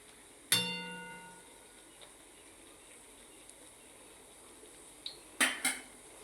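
Kapuri paan bhajiya fritters are slowly turned in a pan of oil over a low flame: one bright ringing clink of a metal utensil, then a quiet stretch and a few lighter taps near the end.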